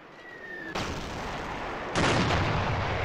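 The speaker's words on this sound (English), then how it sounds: "But we got the epic knee mortar." Knee mortar firing in a Battlefield video game: two sharp, loud booming blasts about a second apart, each followed by a rumbling, noisy tail.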